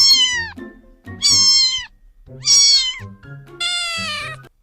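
Four loud, close cat meows in a row with short gaps between them, each one bright and wavering, and no talk.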